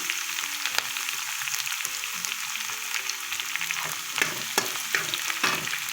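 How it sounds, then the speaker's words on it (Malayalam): Curry leaves and garlic fry in oil for a Kerala prawn gravy, a steady close sizzle punctuated by sharp spattering crackles and occasional stirring scrapes, with faint background music and no talk. "ഒന്ന് മൂപ്പിച്ചെടുക്കുവാണ് നമുക്ക് ഒരിച്ചിരി കരിയാപ്പില ഇട്ട് കൊടുക്കാതെ"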